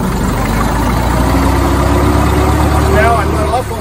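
An old car engine idles low and steady, then rumbles on as the car pulls away in first gear, with a faint rising tone near the end and no voice over it.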